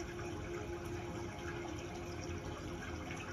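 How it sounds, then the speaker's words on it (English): Water pours steadily down onto rocks like a waterfall, a continuous even rushing wash, soft and uniform with no pauses. "to the water falling down upon the golden rocks"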